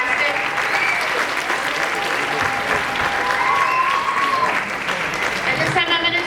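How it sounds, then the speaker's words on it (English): Sustained audience applause for a school jazz band at a school concert, dense steady clapping filling the hall from start to finish with a few shouts or cheers mixed in, loud and close. "give another round of applause for the jazz band."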